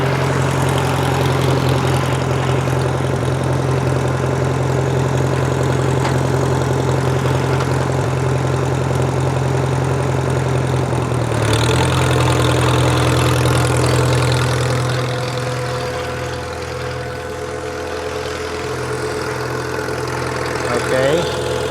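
A tractor engine runs on a dyno with the PTO engaged, a loud, steady droning hum that shifts partway through and settles into a slightly lower, wavering tone.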